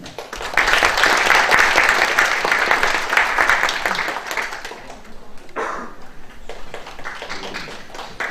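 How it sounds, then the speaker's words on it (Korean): An audience applauds at a retirement ceremony for a history professor, a dense wash of clapping that swells quickly, holds for several seconds, then thins out and fades into scattered claps. "박수 부탁드립니다."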